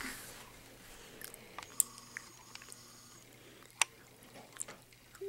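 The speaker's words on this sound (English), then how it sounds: "You're still chewing, huh?" Soft, close chewing and sticky crunching as a two-year-old toddler works on a small piece of Tootsie Roll candy, with scattered wet clicks and bites over a quiet room.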